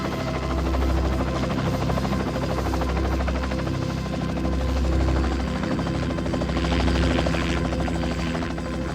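A helicopter runs close by at a forest fire-fighting crew site, its rotor chopping in a steady loud pulsing beat over a low engine hum for the whole stretch.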